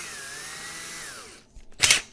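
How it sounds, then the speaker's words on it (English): A cordless drill spins a small die-cast toy axle, giving a steady high whine for over a second before it winds down and stops, followed by a short clatter of handling. "putting them in my cordless drill"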